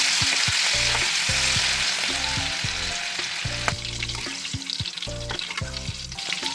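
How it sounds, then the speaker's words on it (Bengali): Hilsa fish pieces frying in hot oil in a pan, a steady close sizzle with stirring clatter throughout, alone without voices. "তেল গরম হয়ে গেছে, আমি এক এক করে মাছগুলো ছেড়ে দিচ্ছি।"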